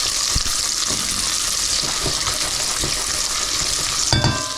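Chorizo and onion frying in a pot, a loud continuous sizzle close up with occasional stirring scrapes and a clatter near the end.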